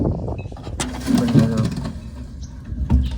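Pigeons, including white ones, give low throaty coos in a few short bursts, close by and fairly loud, over a steady background hum.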